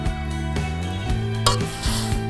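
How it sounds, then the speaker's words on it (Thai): Pork being blanched in a pot while cooking Thai winged bean salad, with close stirring and scraping against the pot, a low steady bubbling hum underneath and a few rhythmic clinks. "ลวกหมู"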